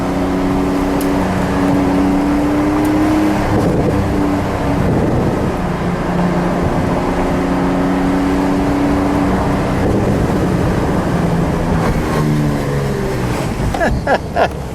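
A grey 2023 Porsche 911 992 Sport Classic with ducktail, heard from the cabin while driving: a loud, continuous engine drone that rises and falls in pitch through gear changes, over road and wind roar.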